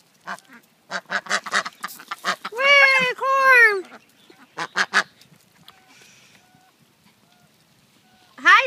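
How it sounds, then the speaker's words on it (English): A pet duck quacks loudly and close by, with a run of short clipped calls followed by two long drawn-out honking quacks and a few more short calls, then a final loud quack at the end. "This is Dottie Quackers, because she talks the most"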